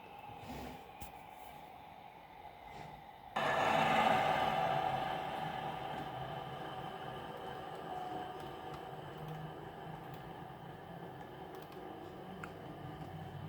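A rail tour train departing Birmingham New Street station, a sudden swell of engine rumble and rail noise that stays steady and moderately loud, with a faint tone in it as it pulls out.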